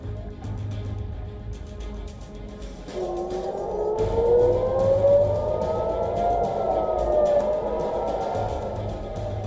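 An air raid warning siren in Israel starts up and wails steadily, rising and slowly swelling over a low background hum, with no voices.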